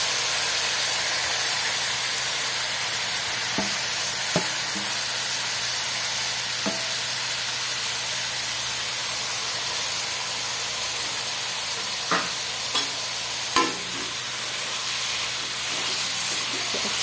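Grated bottle gourd sizzling in hot ghee for halwa, a steady close frying hiss with occasional spoon scrapes and clicks against the pan, no talk.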